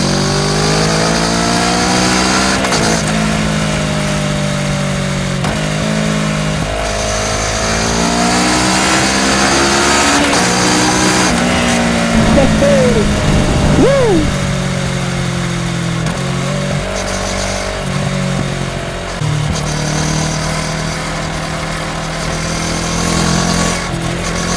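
A Kawasaki Ninja 650 motorcycle fitted with an Akrapovič exhaust pulls hard through the gears while leaving town, its engine note climbing, dropping at shifts and climbing again, steady and close throughout with no talk.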